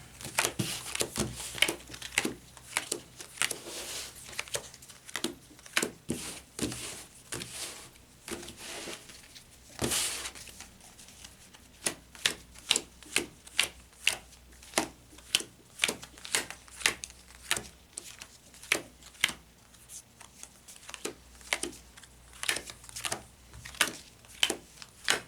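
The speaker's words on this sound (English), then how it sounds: "I'm really bad at conventional shuffling, so I just go about it this way." Dominion deck-building game cards shuffled by hand in a dense series of short riffling bursts and taps, close and crisp, continuing rhythmically for over twenty seconds with no speech.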